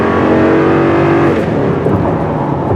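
A 2021 Toyota Tundra pickup truck accelerates hard with some wheel spin, its engine loud and close in a sustained, rising drone that carries on without a break and with no voices over it.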